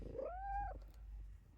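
A single drawn-out meow from a house cat indoors rises and falls in pitch. It is fairly faint over a low steady hum, with no talking.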